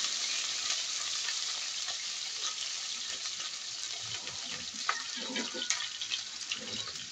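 Steady sizzling of onion and green pepper frying in a hot pan, a constant crackling hiss with occasional small pops and faint clatter.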